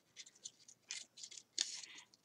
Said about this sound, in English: wiggling the scissors back and forth like this